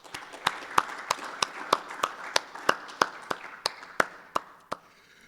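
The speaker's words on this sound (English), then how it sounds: "Round of applause, please." Thin, sparse applause from a small audience at a conference session: roughly fifteen distinct, fairly regular claps that slow and fade out toward the end, heard alone in a quiet room.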